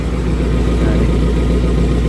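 A 2012 Suzuki Carry 1.5 pickup engine idles steadily through a double muffler exhaust, a close, loud, even low rumble with no break across the clip.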